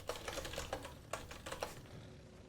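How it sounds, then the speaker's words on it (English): Quick, light clatter of a computer keyboard while someone types a chat message during an Albion Online large-scale PvP fight, with a short burst of keystrokes, a pause and then a few more keystrokes, close and quiet. "I'll type it in chat."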